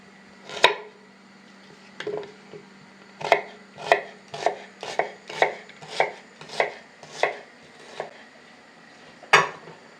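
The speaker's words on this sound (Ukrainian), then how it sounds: "Маленьку цибулину я розрізаю на половину, буду цілу давати. Якщо велика цибуля, то тільки тільки половинку. Нарізаємо півкільцями." A knife slices through onion into half rings on a board, with about a dozen crisp, regular chops close up, a pause early on, and one final louder cut.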